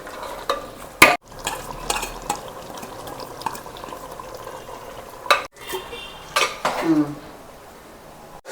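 A spoon scrapes and stirs biryani masala with chopped coriander leaves in a pan, a low sizzle underneath, several sharp clanks and knocks scattered irregularly across the stretch.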